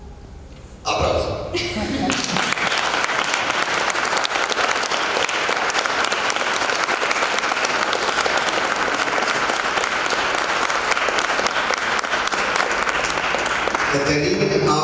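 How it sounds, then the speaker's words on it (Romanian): An audience at a music and poetry show in a library applauds after a recited poem; after a brief quieter moment, loud, dense, continuous clapping swells up and holds steady to the end. "Aplauze!"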